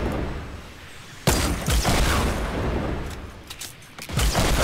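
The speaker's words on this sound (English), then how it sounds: "They're shooting rockets." Rocket launches and blasts in a video game battle: a sudden loud burst followed by a run of booming explosions and sharp cracks, with a quieter stretch and then another loud volley near the end.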